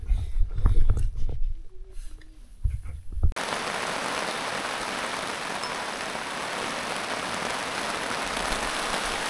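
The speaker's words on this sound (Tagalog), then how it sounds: "Gumuhos na ang ulan." Heavy rain pours at Lake Tabeo, a dense, even hiss of downpour that starts abruptly after a few seconds of low thumps and rumbles, then holds steady and fairly loud to the end.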